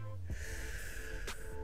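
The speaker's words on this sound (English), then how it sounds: "Everyone, let's take a deep breath together." A single deep breath drawn in sharply through the nose, then a brief exhale, close and fairly quiet.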